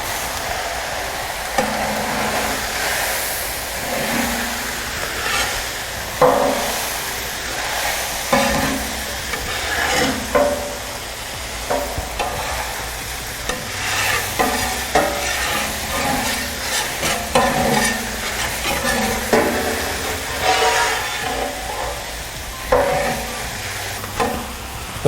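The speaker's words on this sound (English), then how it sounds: "Once the rice has been added to the kettle, you want to make sure that you keep a nice even stir on the product so that nothing sticks and burns." Rice and onion stirred in a large tilt skillet kettle, with scraping strokes recurring every second or two over a steady sizzling hiss, close and fairly loud with no talk.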